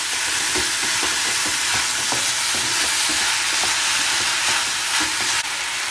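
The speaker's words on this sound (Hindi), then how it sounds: "अभी हम इसको कितनी देर तक सॉटे करेंगे? बस ये थोड़े सा सॉफ्ट हो जाए" Onions and tomatoes sauté in a pan with a loud, steady sizzle, while a spoon stirs and scrapes in a quick, uneven rhythm; no one speaks.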